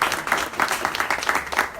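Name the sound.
applause for interview guest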